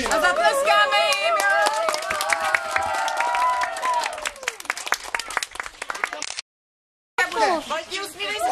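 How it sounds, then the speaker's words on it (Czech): Audience applause and clapping at a children's event, loud and sustained, under mixed crowd voices and excited chatter, briefly cutting out before resuming. "A zatleskáme jim!"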